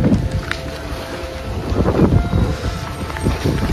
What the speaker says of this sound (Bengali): কি একটা জোরে হাওয়া দিল